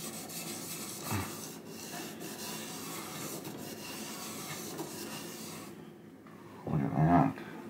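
Rubbing and wiping on the greasy metal parts of a 1972 Williams pinball match unit, a steady soft rasping scrub that runs throughout, with a brief louder scuff near the end.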